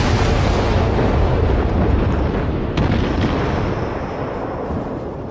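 Warship guns firing in the World of Warships naval combat game: a loud, sustained booming roar with a couple of sharper bursts near the middle, fading slightly toward the end, with no talking.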